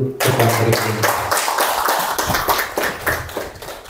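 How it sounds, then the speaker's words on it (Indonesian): A small audience claps at a presentation on an innovation rollout, with distinct individual hand claps forming a loose rhythmic patter that softens gradually over a few seconds. "Tepuk tangan dulu untuk teman-teman ini."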